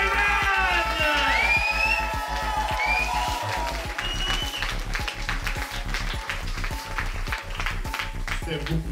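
A crowd applauds at a show in a dancers' bar, a dense wash of clapping mixed with cheering and whoops over rhythmic thumping music. A voice calls out above it.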